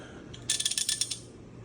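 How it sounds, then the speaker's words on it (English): A 3/4 inch ratchet with an 18mm socket on a John Deere Z425 mower deck gives a brief, close run of about eight quick ratcheting clicks. "18mm socket and a ratchet. I use the 3/4 inch just because it's longer and gives me more leverage."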